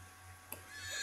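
A horse in The Sims 3 gives a brief, faint whinny at a distance over a steady low game hum, with no talk over it.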